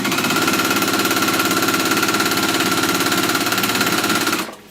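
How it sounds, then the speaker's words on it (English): A sewing machine stitching a straight seam on a beginner panel tote bag, with rapid, even mechanical needle chatter running loud and continuous before it slows and stops at the end. "This is all straight line sewing, all of it, all of it, all of it."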